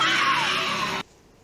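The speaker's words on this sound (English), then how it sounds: "Nikki screams" A woman's loud, sustained scream in the horror film Mirror Mirror, holding one piercing cry for about a second before it cuts off abruptly into near silence.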